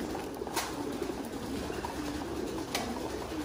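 Thai meat pigeons in a farm loft coo softly, low murmuring calls running steadily under a faint hiss of background noise, fairly close and continuous.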